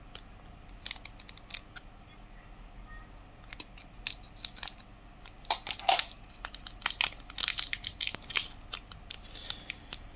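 Packaging around a Thai amulet coin is cut and unwrapped up close, with scattered snips, crinkles and plastic rustles that come in irregular bursts and grow busier toward the middle.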